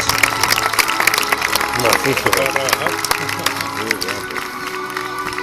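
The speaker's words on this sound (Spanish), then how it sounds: "creo que también se merece ese fortísimo aplauso de todos nosotros" An outdoor falconry exhibition crowd gives sustained applause and some cheering, a steady wash of clapping with an announcer's voice carrying over it.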